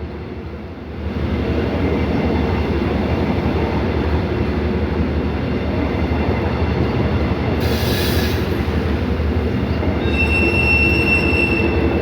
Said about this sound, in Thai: ก็ได้ยินเสียงขบวน 171 นะครับ น่าจะกำลังเคลื่อนตัวออกด้วยนะ